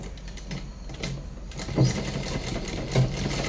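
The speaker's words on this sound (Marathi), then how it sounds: "तर इथून आपण शिलाई मारून घेऊयात।" A sewing machine runs in short bursts while stitching piping onto a blouse sleeve, a close whirring hum of rapid needle strokes that surges and pauses.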